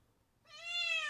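A single drawn-out cat meow rises from near silence partway through, clear and fairly close, with no other sounds around it.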